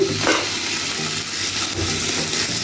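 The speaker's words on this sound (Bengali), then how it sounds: "দুটো দুটো টমেটো দেখেছি সেগুলো একটু ভেজে নিব হালকা তেলের মধ্যে" Tomatoes frying in a little oil in a pan, giving a steady, even sizzle and hiss that continues without a break and with no voices.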